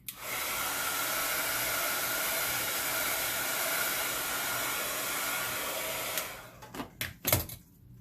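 A hair dryer blows steadily and loudly for about six seconds over an alcohol ink painting, then shuts off, leaving a few knocks and clatters of it being handled and set down.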